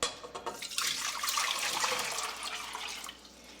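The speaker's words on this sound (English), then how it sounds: "I'm also draining the juices from the can of chicken because I think it'll add a little bit of flavor." Juices from a can of chicken are drained into a pot while making an easy one-pot canned soup gumbo. The pour is a close, steady liquid splash and trickle that runs for a few seconds, with no voices.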